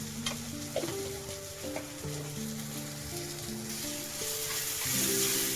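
Spice masala with biryani masala and homemade masala stirred in a hot pan before prawns go in, a steady sizzle under repeated spatula scrapes, close and moderately loud, no speech.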